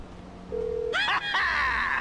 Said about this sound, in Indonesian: Oke, kita telepon Lester karena misi kita udah berhasil